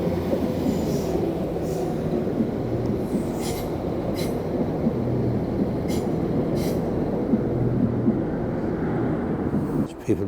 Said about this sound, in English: Train coming into Enfield Station